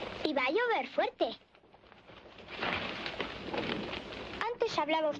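Heavy rain in a Western film scene, a soft hissing downpour that fills a short gap between lines of dialogue and then sinks under the voices again.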